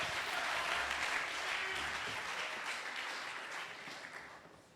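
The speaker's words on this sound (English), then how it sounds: "can we please give them a round of applause as they go to deliberate?" An audience at a national grand final claps as judges leave the stage, a sustained wash of applause that is fairly quiet and gradually fades over a few seconds.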